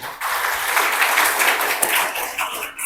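An audience applauds at a book launch for a Gujarati translation, a dense wash of clapping from a crowd that holds steady for a few seconds and then thins out, heard from within the hall.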